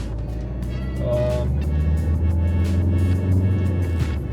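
A steady low rumble of tyres on the road fills the cabin of a 2011 Ford Focus, with a muffled engine drone and faint suspension creaks over several seconds.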